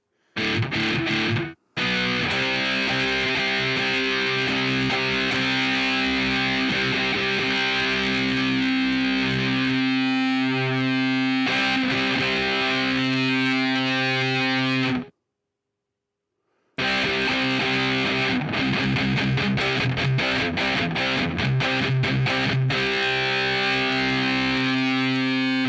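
Distorted electric guitar through a Marshall Valvestate 8100 amp emulator app on iOS plays sustained, reverb-washed chords and riffs, loud and continuous, with one brief dropout to silence midway.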